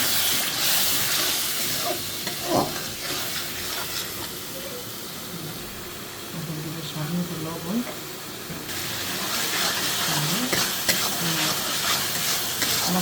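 Ginger-garlic paste, ground cumin, nut paste and fried-onion paste frying in oil while being stirred, a steady sizzle with scraping spoon strokes throughout, close and moderately loud.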